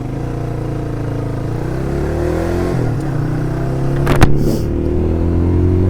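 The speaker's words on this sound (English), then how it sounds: "get this little bike revved up and on our way." A small motorbike engine revs steadily at close range in Thailand, its pitch climbing and holding, with a brief sharp rise in the middle.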